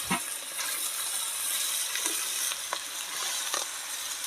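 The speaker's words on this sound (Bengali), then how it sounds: "এবার চালে ডালে দিয়ে ভালো করে নেড়ে নেব" Washed rice and mung and masoor lentils stirred in hot spiced oil for a village-style khichdi, a dense continuous sizzle with a few soft scrapes of the spoon against the pot.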